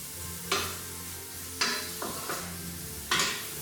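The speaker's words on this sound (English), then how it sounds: "So, dry fry. That's for about 5 minutes." Dry frying in a pan with no butter or oil for a traditional Christmas red cabbage and apple dish, a steady close sizzle broken by three or four sharp stirring scrapes and clinks.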